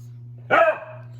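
A dog gives a single sharp bark at close range over a low steady hum, with no talk.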